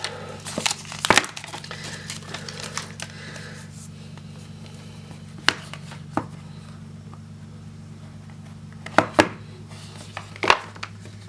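An Apple iPhone 12 Pro box being opened: scattered sharp taps, light crinkles and cardboard scrapes, some in quick clusters, over a low steady background hum, with no talking.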